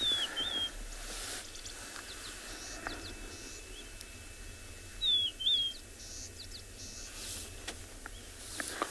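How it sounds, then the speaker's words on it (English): Birds sing with short, high chirping phrases against a quiet outdoor background at sunrise in the South African bush, with faint insect buzzing throughout. "How cool is that to wake up in the morning with such a melodious song from these birds?"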